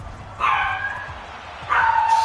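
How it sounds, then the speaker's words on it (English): A dog in a home setting gives two short, whining yips about a second apart, fairly loud and close, over a low murmur of background game commentary. "Shut up, dog."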